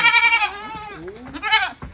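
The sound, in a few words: sheep bleating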